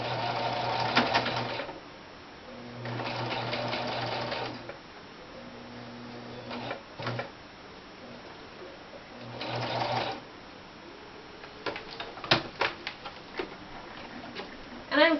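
A mechanical sewing machine stitches in several bursts of fast, even rattling with short pauses between runs, close by, with faint handling clicks in the gaps.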